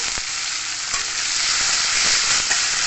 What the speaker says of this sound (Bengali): ভেজে দেবো আবার ভালো করে